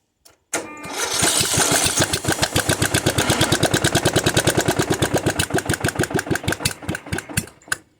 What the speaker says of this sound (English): Currently running on choke, but it does run